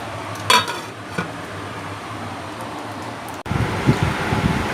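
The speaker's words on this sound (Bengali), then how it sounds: "মিশিয়ে দিচ্ছি" A spoon stirs food in a cooking pot at home, with a few sharp metallic scrapes and clinks over a low steady background hum, then a louder rustling stretch near the end.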